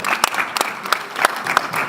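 An audience applauds a person at a French-language event, a brief burst of clapping with a few sharp individual claps standing out over a lighter patter.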